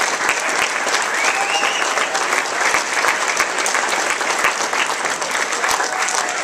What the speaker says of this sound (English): one more round of applause for all the folks that won awards tonight